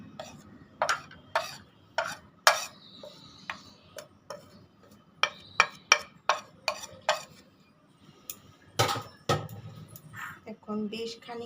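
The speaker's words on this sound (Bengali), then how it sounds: "কিন্তু এগুলো সব মিলিয়ে আমি জল দিয়ে একটা পেস্ট তৈরি করে নেব।" A spoon repeatedly clinks and scrapes against a bowl while spice powders are mixed with water into a paste for egg kosa, giving irregular close ticking strikes with a few louder knocks.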